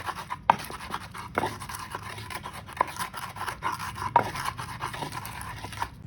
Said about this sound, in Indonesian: Di sini pertama sekali aku ulek bawang merah